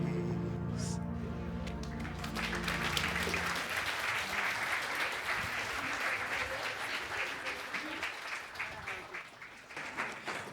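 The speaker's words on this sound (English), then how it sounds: "One more round of applause for Agahozo Slum Village." A crowd at a forum opening session breaks into sustained applause after a low sung passage, clapping loud and dense, then gradually thinning toward the end.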